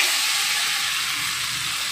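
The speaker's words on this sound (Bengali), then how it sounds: "এটা গরম হয়ে গেছে, ওই তেলে আমি ম্যারিনেট করা চিকেনটা দিয়ে দিচ্ছি," Marinated chicken hits hot oil in a wok, giving a loud, dense, continuous sizzle and hiss that holds steady from start to finish with no voices.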